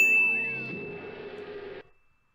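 A dish in a Tom and Jerry cartoon is struck and gives off a bright, ringing gong-like clang that sustains briefly and then cuts off.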